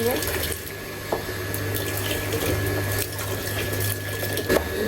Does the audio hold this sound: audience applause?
no